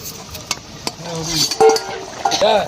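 Rupchand fish curry with vegetables and peas simmering in a kitchen pan, with a spoon stirring and clinking against the metal in short scrapes and taps, a soft sizzle and bubbling underneath, close by.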